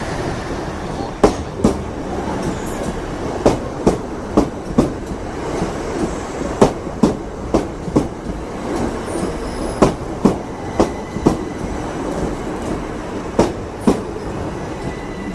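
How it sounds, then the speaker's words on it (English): Train passing through a platform at Redhill station, loud and close, with sharp rhythmic clickety-clack wheel beats over the rail joints above a continuous rolling rumble and faint squeal. "The train now approaching platform 1B is the 10:41 service to Gatwick Airport."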